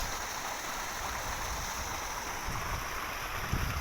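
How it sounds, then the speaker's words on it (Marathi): Water pouring over a village check dam (bandhara), a steady rushing, gurgling flow heard close and continuous, with no voices. "हा बांधारा असा वाहतोय मस्तपैकी"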